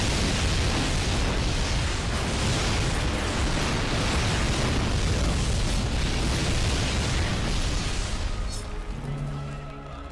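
A rocket explodes during a Battle of the Bulge mission in Medal of Honor: European Assault, a loud, sustained roaring blast that fills the scene before thinning out near the end.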